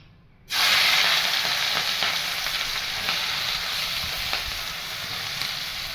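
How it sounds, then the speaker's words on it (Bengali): After a moment of silence, a loud sizzle erupts as dried red chillies hit hot refined white oil, then settles into steady crackling and spitting. "সাদা তেল দিয়ে দুটো শুকনো লঙ্কা ফোড়ন দেবো"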